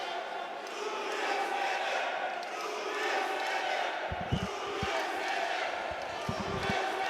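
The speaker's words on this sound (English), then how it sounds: "I'm not sure what the crowd are chanting here" Arena crowd at a Budo 44 x Xtreme Kombat kickboxing fight, a dense steady roar of many voices chanting in unison, with a few sharp thuds and bangs from the fight breaking through near the end.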